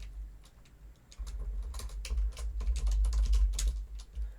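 Steady typing on a computer keyboard while writing an SQL query, a close run of quick, uneven key clicks with short pauses and no voices.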